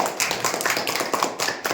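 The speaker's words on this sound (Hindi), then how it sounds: "चलो तालियां इसके लिए भाई।" A group of children clap for a classmate in a classroom, a dense scatter of uneven, fairly close claps lasting a couple of seconds, with no talk over it.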